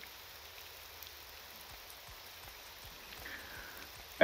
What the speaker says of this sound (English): And I hate rain. My fur is dripping wet.